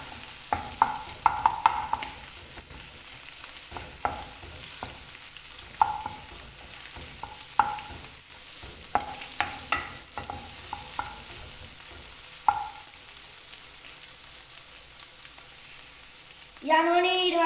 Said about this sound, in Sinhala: දාගත්ත ගමන් බිත්තර ටික හොඳට කඩා ගන්න ඕනේ යාළුවනේ